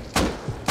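Two sharp gunshots from the survival game Rust crack out loud and close, about half a second apart, each a sudden full-band burst with a brief tail and no talk over them.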